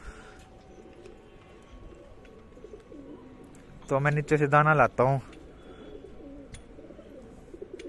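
A pigeon coos faintly in low, repeated murmurs, with someone speaking briefly and loudly partway through.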